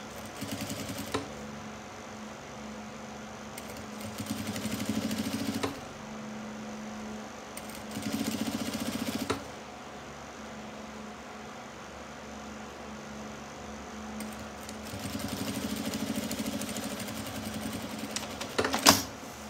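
A sewing machine stitches a crossbody bag in repeated bursts of steady mechanical whirring, each run stopping and starting again with quiet pauses and small clicks in between.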